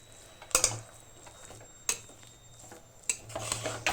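A spoon stirs alive seed ladoo mixture of garden cress seeds, grated coconut and ghee in a pan, giving a few sparse, quiet metallic clinks and scrapes with soft pauses between them and no talking.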